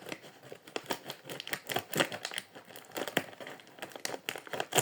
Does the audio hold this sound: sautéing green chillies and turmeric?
no